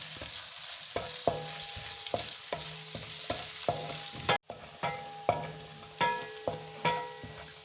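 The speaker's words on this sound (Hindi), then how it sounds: "अब मैं इसमें अदरक और लहसुन डालूँगी" Ginger and garlic cubes fry with a steady sizzle in a pan while a utensil stirs and scrapes through them in repeated strokes, close and moderately loud, with no talking.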